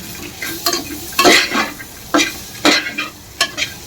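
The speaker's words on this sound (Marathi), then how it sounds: "परतलेल्या कांद्यात वाटाणे आणि बटाटा परतून घेऊ." Peas and potato are stirred through fried onions and spices in a pan, each push of the spatula bringing a sharp burst of sizzling scrape, repeated in uneven strokes over a steady low hiss.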